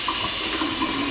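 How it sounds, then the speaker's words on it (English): Hot water runs from a tap into a draining sink with good pressure, a steady close hiss and splash with a few faint gurgles, continuous and alone. "Turn on the hot water. We have good water pressure,"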